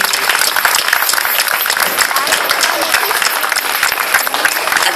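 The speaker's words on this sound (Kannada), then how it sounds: "ಚಪ್ಪಾಳೆ ತಟ್ಟಿ ಜೋರಾಗಿ." Loud, sustained applause from a crowd at a children's yoga asana performance at an orphanage ashram, dense steady clapping throughout with some voices mixed in.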